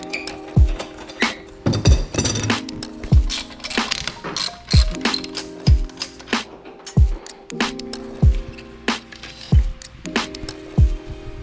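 A ratchet loosens the front pinch bolts on a Yamaha Bolt motorcycle, producing repeated close clicking strokes in an uneven rhythm, with sharp metallic clanks between the runs.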